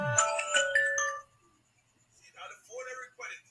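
A phone ringtone plays loudly in a law class, a bright series of tonal chimes, then breaks off as a person starts talking.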